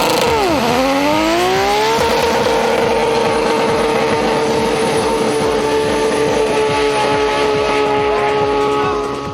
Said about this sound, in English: The power skids are usually the realm of V8s, but Theo proved otherwise, skidding the entire main straight.